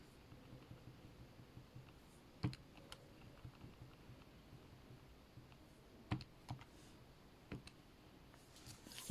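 Quiet, sparse keystrokes on a computer keyboard while an equation is edited, soft scattered clicks with a few slightly louder taps over faint room tone.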